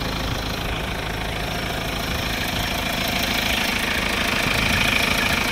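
A 2014 Mahindra XUV500 W8 FWD diesel idles steadily at close range, a continuous low rumble with a faint ticking knock running through it, alone and with no one speaking.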